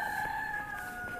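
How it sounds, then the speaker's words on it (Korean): A chicken crows in a park in China, one sustained, fairly faint call heard from a short distance over quiet outdoor background. "와, 저기 닭."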